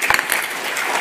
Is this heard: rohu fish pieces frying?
no